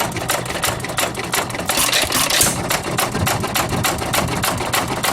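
A Fuller and Johnson hit-and-miss engine runs after a cold start, its fast steady chuffing and clattering beats loud and close, with no talking over it.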